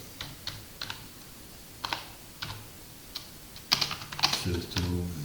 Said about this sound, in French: Quand je tape comme ça